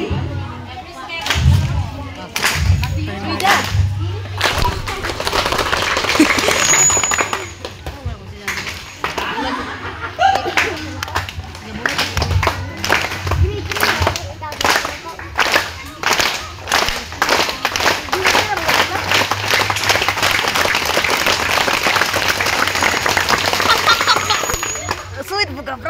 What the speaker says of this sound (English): Let's see if you can clap on every step I take.